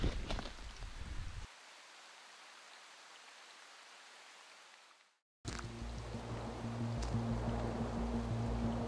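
Steady rain on a Nordic island, a broad hiss that drops to a softer patter after a heavier opening burst, cuts out briefly, then returns fuller with a low continuous rumble, close and even throughout.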